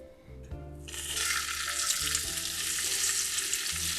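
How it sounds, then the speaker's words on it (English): Bacon strips fry in grease in a pan on a stovetop eye; after a soft knock, a loud crackling sizzle bursts in and stays steady and close, with a low hum underneath. "Because this bacon is cooking in grease"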